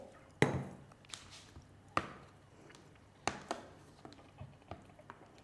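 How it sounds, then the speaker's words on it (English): A knife cuts cured cheese into little cubes on a board, with sharp chops spaced about every second and a half and softer taps between, close and clear. "We're just gonna cut it into little cubes and add to the bowl."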